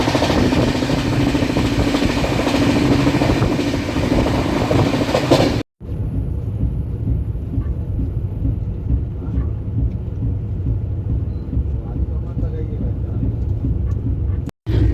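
An Indian Railways Lokmanya Tilak–Patliputra Superfast Express runs flat out at 130 km/h past Virpur station, heard from inside a 3AC coach as a loud, continuous roaring rumble with rattling, briefly cut by two short dropouts.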